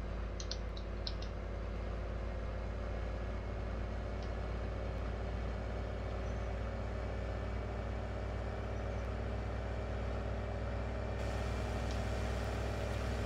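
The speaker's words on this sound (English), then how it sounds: "This tractor's loud." A tractor engine in Farming Simulator 17 drones steadily at a constant low idle-like pitch throughout, loud and unbroken, with a few faint clicks on top and no talking.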